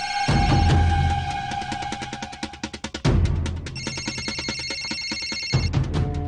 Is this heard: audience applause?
no